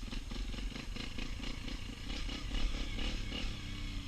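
A Yamaha TTR 125 dirt bike engine under riding load, its rapid, buzzy single-cylinder chatter pulsing steadily and close, with wind rushing across the microphone.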